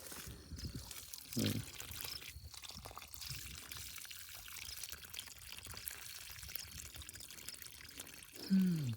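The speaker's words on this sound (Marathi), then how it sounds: "तर पाणी टाकून देतो" Water pours briefly, then a quiet stretch with faint trickling and low background noise, and a short burst of pouring near the end.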